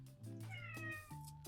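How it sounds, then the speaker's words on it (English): A cat meows repeatedly, drawn-out rising and falling cries, fairly close, with no talking. "Sorry, that's my cat. I don't know if you can hear that."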